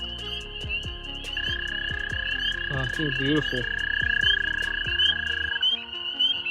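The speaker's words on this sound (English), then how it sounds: "we got to put the gray tree frogs away now" Gray tree frog calls in a conservation setting, repeated short croaks under a steady insect-like trill, with a person speaking softly nearby.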